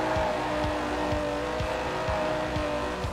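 GT car engine in Forza Horizon 4 accelerating hard, loud and close, revving up repeatedly through quick gear shifts with sharp drops in pitch between pulls, no talking.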